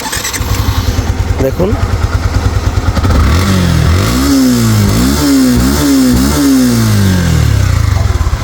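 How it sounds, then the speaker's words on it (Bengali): A Yamaha FZS V2 motorcycle engine is started and idles with a steady low putter, then is revved repeatedly in rising and falling bursts, close and loud, with someone speaking briefly over it. "গাড়িটা যদি স্টার্ট করে সাউন্ড কন্ডিশন দেখাই"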